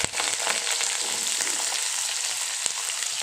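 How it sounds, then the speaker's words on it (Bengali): Cut potatoes drop into hot oil with lightly browned cumin seeds and fry with a strong, even sizzle close by, with a single sharp utensil tap near the end. "এবার এর মধ্যে কেটে রাখা আলুগুলো ছেড়ে দেবো।"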